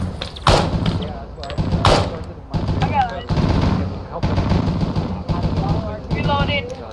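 Rapid bursts of automatic gunfire and single shots from an Arma 3 USMC mounted patrol co-op battle crackle repeatedly at close range, with voices talking over much of the shooting.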